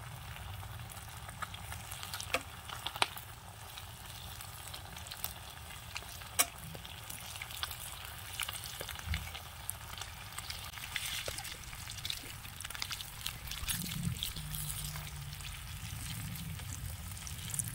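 Fish sizzles steadily in a pan in a Kashmiri village kitchen, with a dense broadband crackle of hot oil, faint bubbling, and occasional soft clicks throughout.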